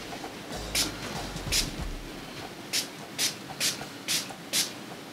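A spray bottle misting water onto a dark shirt for sublimation, first two bursts, then a brief muffled rustle, then a quick series of five short hissing sprays, close by.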